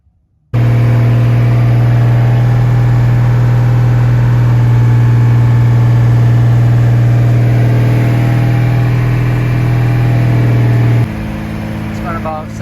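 A turbo 4.9 engine with a newly installed Comp 268 cam fires up and settles into a loud, steady idle with a strong constant hum, shifting slightly in tone near the end.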